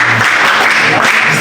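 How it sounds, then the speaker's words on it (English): Sustained, dense clapping from a classroom of teenagers fills the room at close range and steady loudness, with a brief voice underneath. "Okay, please clap for him."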